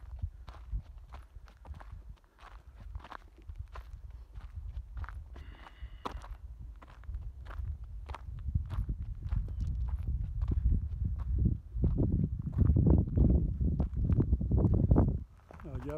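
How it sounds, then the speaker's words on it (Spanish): Cattle on a ranch walking back from drinking water, hooves thudding in an irregular stream of steps that grows louder and closer toward the end, with people talking over them. "Ya fueron a tomar agua las vacas, ahí vienen ya listas."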